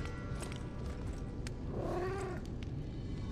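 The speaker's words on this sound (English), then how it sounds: "Ooh, kitty cat." A single cat meows once, mid-length and fairly faint, over a low game ambience in Lies of P, with a sharp click at the end.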